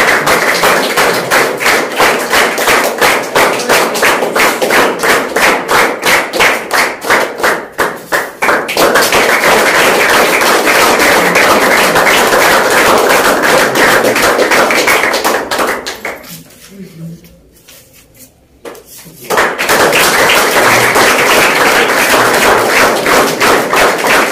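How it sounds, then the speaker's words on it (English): A school audience applauds at a quiz competition, steady rhythmic clapping that continues loudly for most of the stretch, dropping out briefly near the end before resuming. "So, big round of applause for them."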